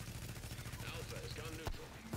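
Gunfire rattles in bursts around a fortification in the video game The Division, with a voice talking over the shooting throughout.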